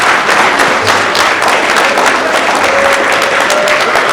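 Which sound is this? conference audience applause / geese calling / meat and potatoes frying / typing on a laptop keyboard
conference audience applause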